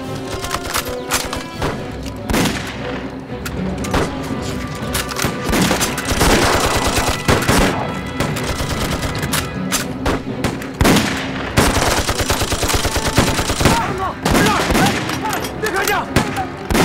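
Bursts of rifle and machine-gun fire crack repeatedly through a kung fu war film battle against Japanese troops, loud and dense, with shouting voices mixed in.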